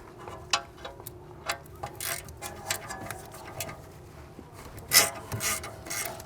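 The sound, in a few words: electric ratchet removing brake caliper bolts on Volvo XC90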